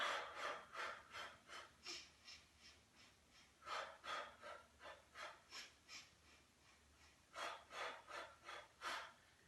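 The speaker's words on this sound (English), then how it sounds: "I'm going to start breathing in and out." Steady, rhythmic breathing in and out, close and clear, with quick repeated breaths in an even pattern and no talking.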